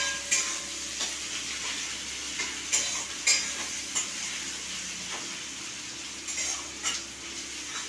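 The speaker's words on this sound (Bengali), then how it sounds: "প্রতিদিন আমি খুন্তি নিয়ে রান্না করবো" A metal spatula scrapes and stirs food frying in a pan, giving a steady sizzle broken by several sharp scraping strokes at irregular intervals.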